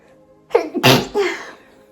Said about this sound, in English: I'm getting a sneeze.